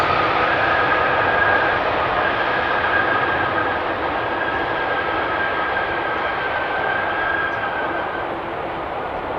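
A large airliner arriving on runway 18R at Amsterdam Schiphol Airport roars steadily as a loud, continuous broadband engine rumble with a faint whining tone, fading only slightly over several seconds, with no voices.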